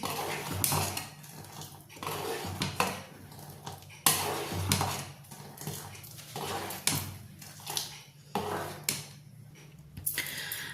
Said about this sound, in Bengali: আমি একদম মিডিয়াম ফ্লেমে রেখেছি, আর যখন উতলে আসবে তখন একবার করে আমি নাড়িয়ে নিচ্ছি।